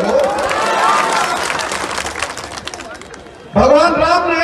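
A crowd at a political rally in Katihar, Bihar, applauds and cheers under a loud amplified speaker. The clapping fades, then the shouting voice returns abruptly and dominates.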